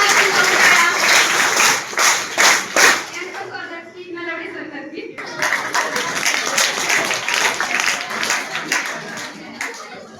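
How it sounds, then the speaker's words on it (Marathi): Students at a high school applaud their principal with loud, rhythmic clapping that fades briefly around the middle before a second burst of dense applause resumes and continues to the end. "आमच्या लाडक्या प्राचार्य यांच्यासाठी जोरदार टाळ्या झाल्या पाहिजेत"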